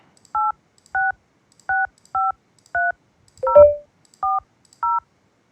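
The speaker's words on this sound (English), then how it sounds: "I call my phone number" Telephone keypad dialing tones while placing a call through a Dinstar IP PBX to an IP phone: eight evenly spaced two-tone beeps, loud and clean, with one brief clunk midway.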